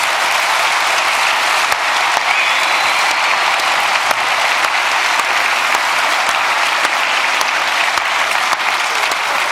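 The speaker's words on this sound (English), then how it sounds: "Get a big applause for them" A large audience at a hacker conference closing event applauds loudly, dense sustained clapping filling the whole stretch with no break.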